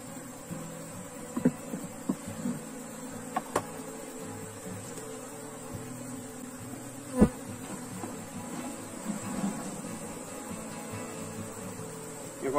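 Constant swarm of honey bees buzzing at an open hive, a thick unbroken drone up close, punctuated by a few faint taps and one louder thump.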